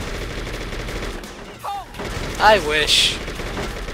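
Bursts of gunfire during a rail-shooting sequence in the video game True Crime: New York City, aimed at Dimitri's limo, sounding as dense, noisy rapid fire with a voice talking briefly over it.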